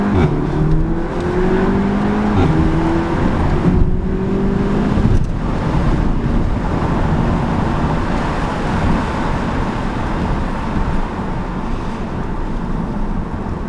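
An Audi S3 saloon engine revs while driving, rising tones climbing early on and then settling into a steady loud roar of engine and road noise.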